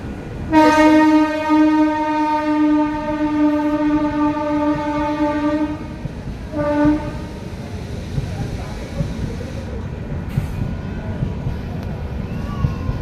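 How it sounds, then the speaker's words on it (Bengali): A train at a railway station sounds a long, loud, harmonic horn blast, then a shorter second blast, over a rumbling station background with faint voices nearby. "সামনে একটা ট্রেন দাঁড়িয়ে আছে"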